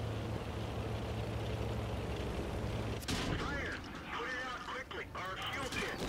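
A powerful cannon fires in a heavy armored-vehicle video game: a sudden, loud broadband blast erupts about midway through, after a steady low engine-like rumble, followed by a noisy, rumbling tail.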